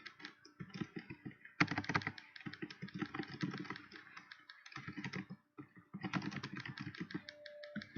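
Close, busy clatter of keys on a computer keyboard, fast bursts of clicks broken by short pauses, with a faint steady hum beneath.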